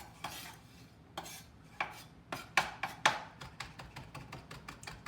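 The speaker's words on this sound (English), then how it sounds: "so let's mince it up a little bit finer" A knife rapidly mincing garlic on a cutting board for tzatziki, a steady series of sharp, close taps speeding up toward the end, with no talking.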